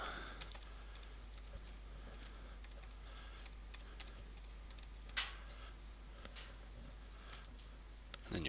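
Keys tapped on a computer keyboard to enter a password, heard as soft, scattered clicks in a quiet room over a low steady hum.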